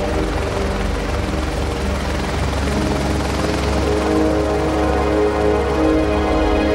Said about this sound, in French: Notre hélicoptère tourne au-dessus du Gunung Api.